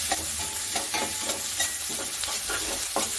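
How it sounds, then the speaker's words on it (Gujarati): Capsicum is sautéed in a hot pan for cabbage Manchurian, a close, loud and continuous sizzle broken by rhythmic stirring scrapes, with no voices. "હવે તેમાં આપણે કેપ્સિકમ એડ કરી દઈશું. તે પણ સારી રીતે સાતળી લઈશું."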